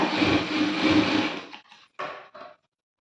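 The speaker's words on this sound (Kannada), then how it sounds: "ಈ ರೀತಿ ನಾವು ಸೆಟ್ ಮಾಡ್ಕೊಂಡು ಸ್ಟಿಚ್ ಮಾಡಿದರೆ ಉಲ್ಟಾ ಪಲ್ಟಾ ಆಗಲ್ಲ" A sewing machine stitches a high school uniform coat in a steady whirring run that stops, then two short bursts of stitching follow, close and moderately loud.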